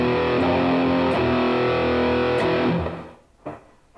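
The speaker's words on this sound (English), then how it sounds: "Let's turn on some reverb." Distorted electric guitar with reverb added, loud sustained chords that fade as the reverb tail decays, followed by a short quieter strum.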